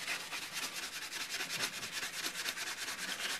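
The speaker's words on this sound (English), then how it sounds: "the next thing you're going to use will probably be really fine sandpaper" A bushcraft knife is rubbed with fine sandpaper in quick, even back-and-forth strokes, a steady close scratchy rasping that repeats rapidly and alone.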